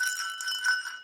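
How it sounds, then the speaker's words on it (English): A big toy bell rung at home, a sustained bright metallic ring with steady tones lasting about a second, fairly close and heard alone. "I also have this big, gigantic bell."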